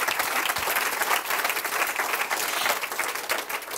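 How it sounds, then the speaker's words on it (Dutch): Audience applause at a cultural kick-off event, a dense, continuous wash of many hands clapping, fairly close and even throughout. "Mag ik jullie applaus?"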